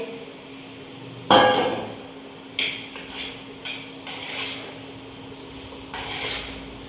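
Kidney beans (rajma) tipped into a metal cooking pot, giving a loud clattering clink followed by a few softer knocks and scrapes of utensils against the pot, with no talking.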